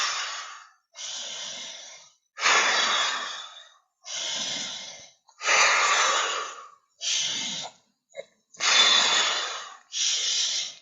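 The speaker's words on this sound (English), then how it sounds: "Keep breathing." Deep breathing during a breathwork session: eight long, forceful, airy breaths in a steady rhythm with short pauses between, close and loud with no talking.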